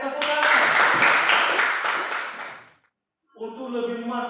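Classroom applause: a burst of many hands clapping that swells then fades out over about three seconds, followed by a brief silence and then a voice speaking.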